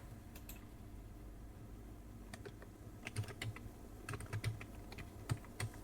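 A password is typed on a computer keyboard: soft, close key clicks in irregular short bursts, quiet against a faint background hum.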